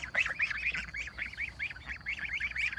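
A group of geese honking nearby in a steady, chattering stream of repeated nasal calls with no pause.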